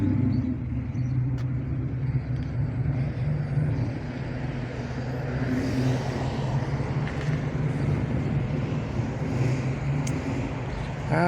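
A 1966 Chevelle Super Sport at a spring rod run car show in Pigeon Forge, Tennessee, its engine giving a steady low idle rumble amid outdoor crowd ambience.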